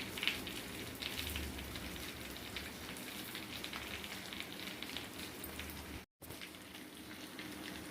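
Chicken fries in a pan with a steady, moderately quiet sizzle and crackle that runs throughout, briefly cutting out for a moment near the end, with no voices.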